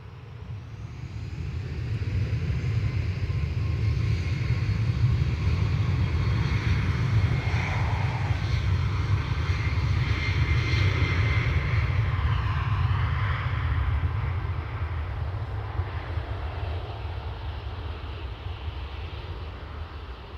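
A Ryanair airliner departs Dublin Airport, its jet engines building to a loud, steady roar that holds for most of the span before easing slightly as it climbs away.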